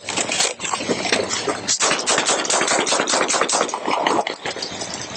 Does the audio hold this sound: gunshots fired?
yes